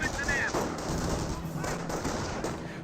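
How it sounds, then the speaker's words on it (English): Captured German MG42 machine gun firing in the Company of Heroes strategy game, a continuous dense rattle of automatic fire mixed with battlefield noise, with a commentator talking over it. "Yep, that is definitely the capture MG42, not a 30 cal."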